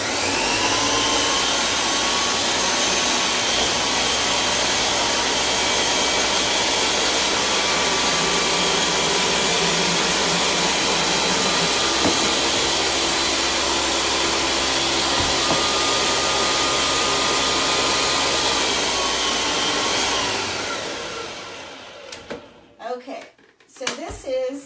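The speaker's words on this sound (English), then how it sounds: "So here we go, we're gonna blend this sucker." A blender whirs loudly and steadily for about twenty seconds, then winds down and stops, leaving a few faint knocks.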